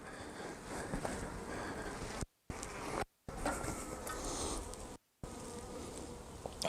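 A dense, steady hum of many honeybees buzzing close by around hive frames in Australia, continuous and fairly quiet, with a few brief dropouts.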